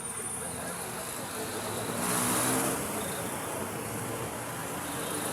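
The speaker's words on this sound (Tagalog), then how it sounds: "Traffic, traffic." Dense road traffic in Manila rumbles steadily nearby, a continuous wash of engines and tire noise with one vehicle swelling louder as it passes.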